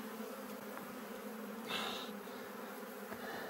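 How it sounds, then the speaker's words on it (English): Honeybees from a large colony buzz continuously in a soft, steady drone, with one bee passing briefly closer and louder midway. "So you can see this colony is great. It's big. A lot of bees."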